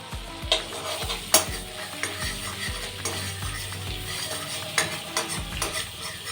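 Butter stirred and sizzling in a wok for chicken soup, a soft sizzle under repeated clinks and scrapes of a utensil against the metal, close and fairly quiet with no talk.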